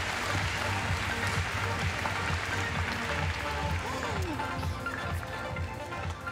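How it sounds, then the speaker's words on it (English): An audience at a Minecraft convention costume contest in Florida gives a sustained round of clapping, a steady, fairly distant patter of many hands at moderate volume that continues evenly to the end. "But let's give her a round of applause."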